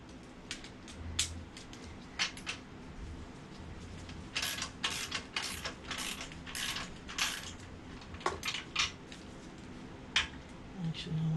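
A main muffler clamp is tightened on a 2008 Harley-Davidson Sportster 883C during a slip-on exhaust install, producing faint irregular ratcheting clicks and metallic creaks in short bursts, close by and fairly quiet.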